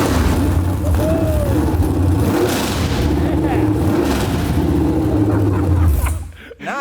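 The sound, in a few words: swapped engine of a G-body car starting and revving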